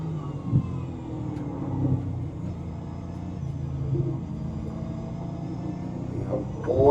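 A V8 Supercar engine in the iRacing sim at Spa hums low and steady, easing and swelling as the car brakes and pulls out of a corner, moderately loud with no voices.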